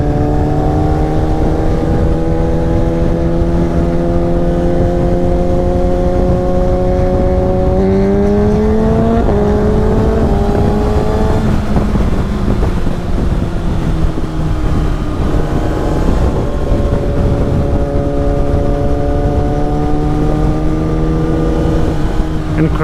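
A 2018 Kawasaki Ninja ZX-6R (ZX636) sportbike with an Akrapovic slip-on exhaust on a test ride gives a loud, sustained engine drone. Its pitch climbs and drops with the gear changes, and wind buffets the microphone.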